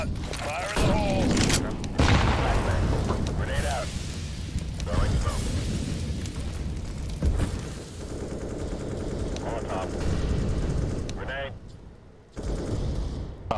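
A grenade detonates in a first-person shooter game, with booming blasts and gunfire-like bursts scattered through a loud, busy mix while a voice talks over parts of it.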